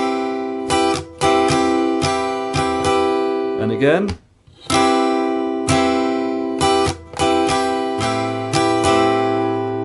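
Acoustic guitar strummed in a syncopated down-up pattern for a song, chords ringing in bursts with one short pause midway; a brief spoken remark comes near the end.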